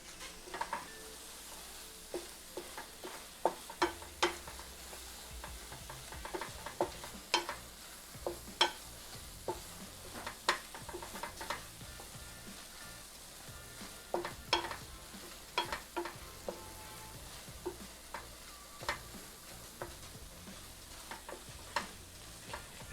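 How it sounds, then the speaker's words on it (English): Garlic sizzling in a pan while being stirred, for a tomato and zucchini pasta, with repeated sharp scraping clicks of the utensil against the pan over a steady low frying hiss, close and fairly quiet. "now we're gonna add in all of our garlic. Give it a nice stir."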